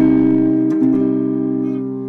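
A single fretted note rings cleanly on a three-string cigar box guitar: a steady, sustained tone with strong harmonics, a brief wobble midway as the finger adjusts, then a slow decay, heard alone and close.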